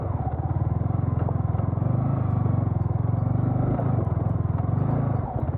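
A motorcycle rides a rough, stony village road toward Barpak in Gorkha, with a steady close engine drone throughout and the chassis jolting and bouncing over small stones, with no talk.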